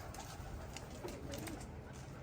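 Soft pigeon cooing repeats at a distance over a quiet, noisy background, with no one speaking.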